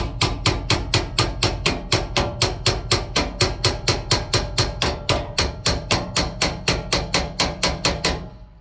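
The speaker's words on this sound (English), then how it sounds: "you've got to go ahead and hammer this back" A hammer drives a shackle back into place on a tandem axle trailer's suspension, with about thirty evenly spaced sharp metal strikes in a fast steady rhythm, loud and close, with no voices.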